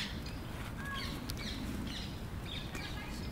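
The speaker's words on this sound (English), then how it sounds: "Oh, some parakeets." Parakeets call in the open outdoors, with faint, scattered high chirps and squawks rising over a steady broadband background of distant ambient noise.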